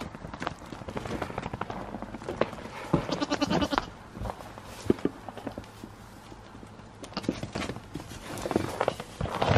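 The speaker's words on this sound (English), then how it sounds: "You want to play with the goats there, Figaro?" Goats on a small homestead bleating in a winter pen, with scattered hoof clatter and rustling, the calls moderately close and mixed with farmyard movement.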